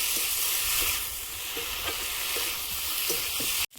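Potatoes sautéing in a pan with ground ginger and green chilli, a steady close sizzle with intermittent spoon scrapes and stirring knocks, ending in a sudden brief cut to silence.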